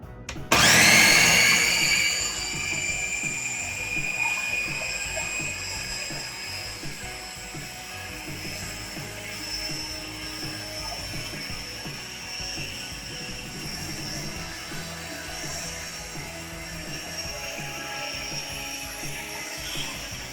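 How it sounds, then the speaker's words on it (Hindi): A blender purées plain mango with nothing added, starting with a sharp loud burst and then settling into a steady high whirring motor drone that runs alone and close for the full twenty seconds. "अब हम इसको एज इट इज ब्लेंड करेंगे।"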